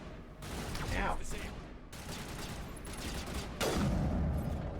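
Sniper and other gunfire in Mass Effect 1 Legendary Edition, with several loud, sharp shots amid dense rattling fire and explosive bursts that continue without a break.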